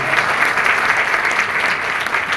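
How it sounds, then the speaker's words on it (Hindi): Audience at a business leadership event gives hearty applause, a thick, continuous patter of many hands clapping close by without a break. "हरीश चट्टीकर सर के लिए एक बार जोरदार तालियां"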